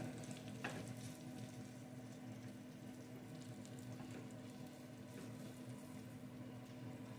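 Pork grease sizzles steadily in a frying pan while breakfast taco filling cooks, a continuous close crackle with a low hum and occasional stirring scrapes, no talking.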